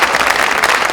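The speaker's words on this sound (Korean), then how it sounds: "이 세 분께 뜨거운 박수 한번 보내주시기" A dense burst of applause from a crowd at a Democratic Party of Korea lawmakers' general meeting, loud and continuous throughout the brief moment.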